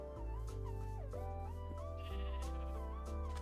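Goat bleating in Minecraft 1.6.4, a synthetic, wavering bleat with pitch slides, repeated several times over steady game sounds.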